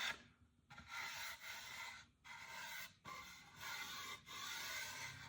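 Repeated hand-sanding strokes with sandpaper rasping across a wooden sailboat rudder, in bursts of about a second separated by short pauses, close and steady.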